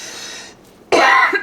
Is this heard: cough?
yes